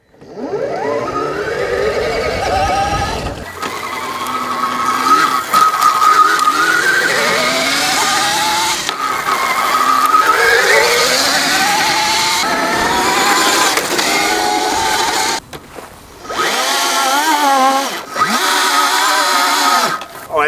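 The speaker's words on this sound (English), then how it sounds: "So we could do an actual sound check of the motor." An 84v Raccoon Pro electric bike motor with a 4-speed manual gearbox and clutch whines and rises in pitch through repeated revs, with brief drops between runs, loud and close.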